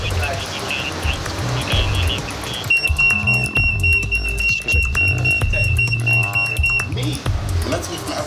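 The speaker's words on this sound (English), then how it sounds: "The socks in the mark's bag triggered the alarm" A shop's security alarm, set off by tagged goods, sounds as a steady high electronic tone for about four seconds amid busy, noisy shop background.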